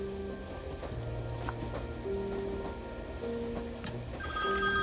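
A telephone rings inside the video game Beholder Conductor, giving a repeated bell-like trill in short bursts over a quiet background hum that swells slightly at the end.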